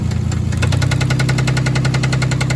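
A Toyota 4Runner 3.0L engine idles with a persistent knock, a fast regular tapping riding over a steady mechanical drone, close and loud, with a slight shift in the idle partway through.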